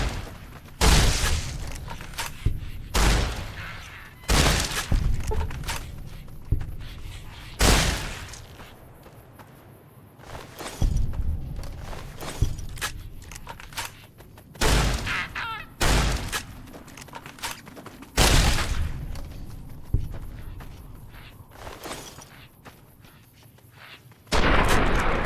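Shotgun blasts in Fallout: New Vegas, loud booming shots fired in irregular volleys across the stretch, some close together and some spaced several seconds apart, with game ambience between them.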